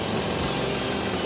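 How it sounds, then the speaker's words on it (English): Loud, rough mechanical drilling of a rock bolt in a gold mine, a close and continuous grinding rattle that fills the whole short stretch. "This time I'm concentrating extra hard as I drill the bolt in."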